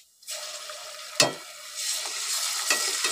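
Chopped onions fry in hot oil in a pan with a steady close sizzle, interrupted by a sharp clink of a utensil and stirring scrapes, with no talking.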